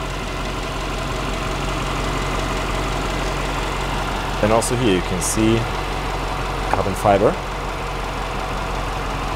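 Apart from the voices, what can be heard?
Brabus GLS 800 engine idling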